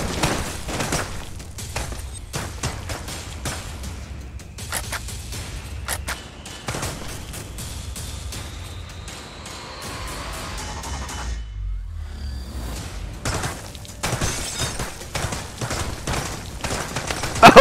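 Gunfire in a VR shooting game, repeated sharp shots and rapid bursts through most of the stretch, a brief lull near the middle, then dense firing again, loud and close.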